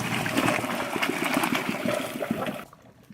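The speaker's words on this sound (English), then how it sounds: "we're gonna dump the pasta in the strainer" Pasta and its cooking water pour into a strainer in a rushing, splashing gush that trickles off and stops after about three seconds, close by with no talking.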